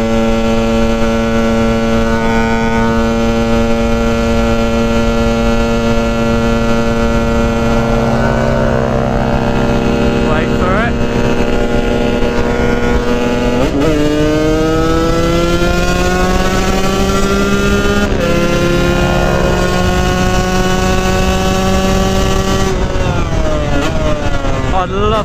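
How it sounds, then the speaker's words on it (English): Cars overtake a motorcycle running in full power mode on the road, their engine tones sweeping past in several rising and falling waves. Underneath, the bike's loud, steady drone continues throughout. "These cars are going to try and pass me."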